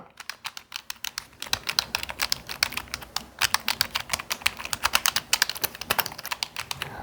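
Fast, steady keystrokes on a 2E KS260 WL keyboard, quiet next to a mechanical board, typed up close in a continuous run with brief pauses and no voices.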